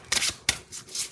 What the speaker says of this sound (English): So let's go ahead and shuffle the cards.